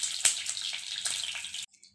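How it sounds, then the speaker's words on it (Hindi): Curry leaves dropped into hot cooking oil hit with a sharp, loud hiss and crackle. The sizzle holds steady, then cuts off abruptly, leaving faint residual sounds. "कुकिंग ऑयल गर्म हो चुका है, अब इसमें हम कड़ी पत्ता डालेंगे।"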